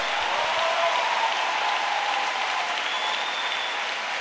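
A church congregation at a pastor's sermon bursts into sustained, even applause and cheering, steady and full for several seconds with no talk over it.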